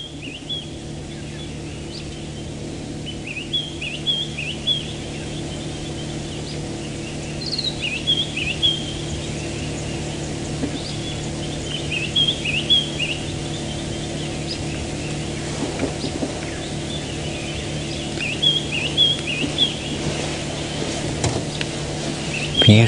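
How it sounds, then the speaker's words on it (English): Birds call at dawn on a safari drive, including a white-browed scrub robin, with repeated short high chirping phrases at moderate distance over a steady low engine hum and faint insect sound. "Let's just sit here, just listen to the birds calling."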